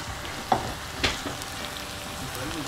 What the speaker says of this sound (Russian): Так, минут 8 обжарим